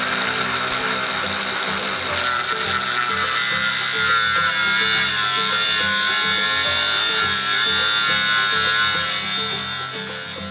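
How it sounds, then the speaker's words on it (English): An abrasive cutoff wheel slicing through a steel roll cage tube, cutting from lip to lip to remove a notch lobe, gives a loud continuous high whine with grinding rasp, steady throughout and tapering slightly at the end, with no talking. "I cut from the lip here to the lip here with a cutoff wheel"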